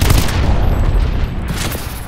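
Missile strikes in Call of Duty: Advanced Warfare land as a loud, continuous rumbling barrage of booms and crackling blasts, heavy and close, with no talk.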